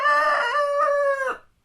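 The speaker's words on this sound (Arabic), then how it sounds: "ديك" A rooster crows once, a loud close cock-a-doodle-doo that rises, holds and trails off, heard alone in a children's Arabic alphabet lesson.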